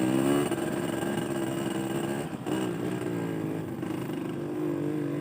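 A motorcycle engine pulls steadily in second gear on a forest trail, a loud, close, continuous drone whose pitch dips briefly near the middle before climbing again.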